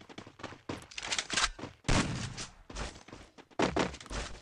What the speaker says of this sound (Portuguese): Errou mais dois tiros. Toma a mina terrestre no pezinho.